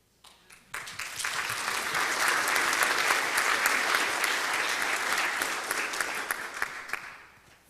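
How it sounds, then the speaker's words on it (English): Conference audience applauding after a panel: a dense burst of clapping swells in quickly, holds loud and steady for several seconds with a few sharp individual claps standing out, then tapers off at the end. "Give them another round of applause."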